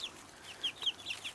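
Free-range chickens cluck softly and a little distantly in a few short, scattered calls, with no voices over them.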